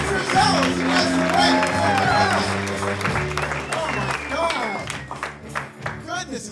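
A comedy club crowd keeps clapping during a showcase, the applause full at first and then thinning into scattered claps and calls as it winds down.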